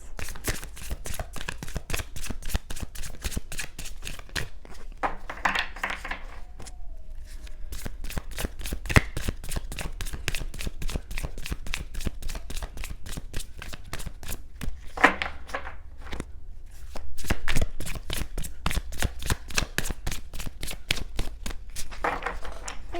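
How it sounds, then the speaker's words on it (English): Steady rapid riffling of tarot cards being shuffled, a continuous dense rhythm of soft flicks, close and fairly quiet, with brief pauses. "I will stop shuffling if so"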